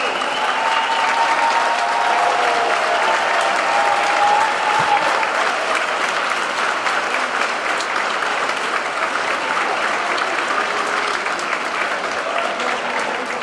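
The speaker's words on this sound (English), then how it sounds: "give yourself a round of applause" Steady, loud applause from a large audience in a theater at a staff event claps on without pause, dense and even throughout.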